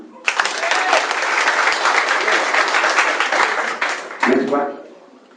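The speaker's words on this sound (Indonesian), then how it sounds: "Tepuk tangan" Loud, dense applause from an audience at a presentation for a group called Valiant, sustained for several seconds before a voice cuts in near the end.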